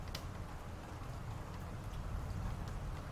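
Continuous rainfall patters close and steady, a dense soft hiss broken by occasional brighter drop taps, with no voices.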